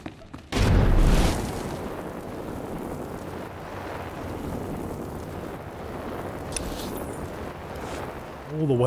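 A loud, sudden boom in the Star Wars: The Old Republic video game, a deep burst that quickly fades into a long low rumble, with a short rising swell near the end.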